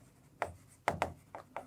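A hand writes on a board during a maths lesson, five sharp strokes in a quick uneven rhythm, close and clear, alone in a quiet room.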